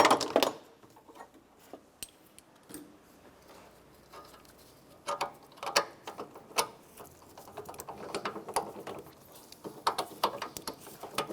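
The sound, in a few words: removing engine mount bolts with a socket wrench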